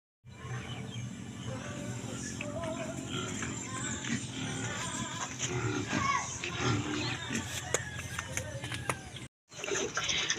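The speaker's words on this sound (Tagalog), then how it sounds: "sumana ko pamahog sa baboy" Pigs grunting and oinking while being fed, with frequent close grunts and shuffling over a steady background, and people talking throughout.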